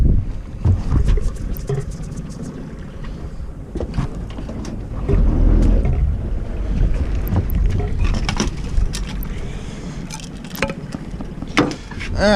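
A fuel-injected outboard motor runs in gear at trolling speed on a salmon and halibut fishing boat, giving a steady low rumble close by, with wind buffeting and splashy water noise over it.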